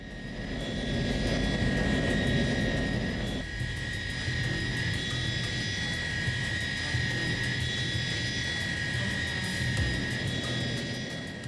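Loud, steady roar of a Tupolev Tu-154M's three jet engines at takeoff, close range, a broad rumbling wash with a high whine on top, sustained throughout with a slight dip partway.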